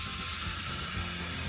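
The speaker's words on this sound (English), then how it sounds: "And then you can spray it with the water." Water sprayed over freshly covered compost soil in a backyard garden, a steady, close, continuous hiss lasting throughout with no pauses.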